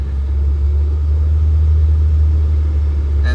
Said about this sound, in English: And look, now the car's moving.